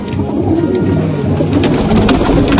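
A Punjabi Malwai pigeon coos in a low, rolling, repeated burble, close and loud, with no voices present.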